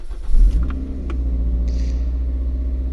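A Toyota MR-S fitted with a sport silencer cranks and fires up with a short, loud burst, then settles into a steady, close, deep idle rumble with no one speaking.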